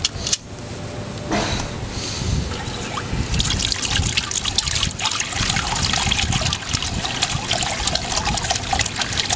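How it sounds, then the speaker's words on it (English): An FT76 Passaros garden fountain runs, its water falling into the basin with a steady, close trickle and splash that holds throughout, with no voices. "And that is your FT76 Passaros fountain running."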